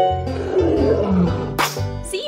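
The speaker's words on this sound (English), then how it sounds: "Lion." A lion gives a long, rumbling roar that swells and fades, loud and close, followed by a brief sharper burst at the end.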